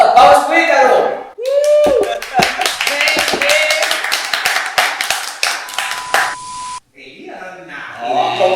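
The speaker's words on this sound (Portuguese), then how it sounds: "Solta palmas pro Ícaro!" A studio audience claps for a guest on a talk show, a lively run of sharp, close claps with whoops and voices layered over it, dropping out briefly before talk resumes.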